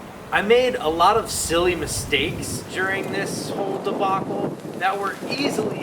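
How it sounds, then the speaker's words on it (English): A person talks steadily while wind rumbles across the microphone in the background by the Colorado River, a low blustery noise under the voice. "It's so windy right now."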